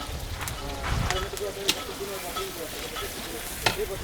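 Baila fish from the Jamuna river fries in oil with chopped onion and local green chillies. A close sizzle with stirring scrapes and a couple of sharp clinks runs under a person talking.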